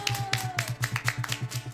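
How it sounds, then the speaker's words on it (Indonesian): Children and family clap along rhythmically during an online children's church worship service, steady evenly spaced claps over soft background music. "Mari tepuk tangan untuk Tuhan Yesus."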